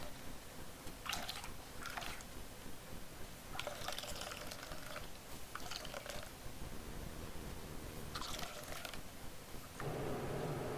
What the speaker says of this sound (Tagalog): pipigain natin yung ating niyog para mahiwalay natin yung kanyang gata